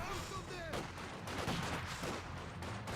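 Gunfire from a PTRS anti-tank rifle and other weapons in the video game Company of Heroes 2, a dense, loud run of overlapping shots and blasts under a commentator's voice.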